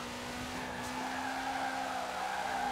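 A car drifting on snow in Forza Horizon 4 gives off a steady engine drone with a sustained tire-scrubbing whine, continuous and moderately loud throughout.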